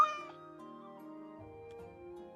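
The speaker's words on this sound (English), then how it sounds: "Okay, we found the cat." A cat meows in Pathfinder: Wrath of the Righteous, the harmonic cry rising and then falling away as one drawn-out call over steady game music, with no talk.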